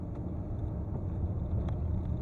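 Steady low rumble of road and wheel noise inside a Range Rover L405 while driving, from the left wheel suspected of a worn brake disc, a continuous drone with faint intermittent ticks and no talk.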